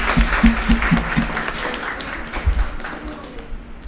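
An audience at a national moot court competition award ceremony at S.G.G.G.S World University, Fatehgarh claps for a winner, loud close handclaps with a few sharp beats that gradually thin out.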